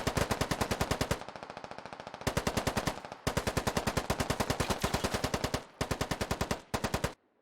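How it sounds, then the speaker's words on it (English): Sustained light machine gun fire in the video game Squad, long rapid bursts of evenly spaced loud shots with a few brief gaps and a quieter stretch of distant fire between bursts. "again under light machine gun fire constantly in this field"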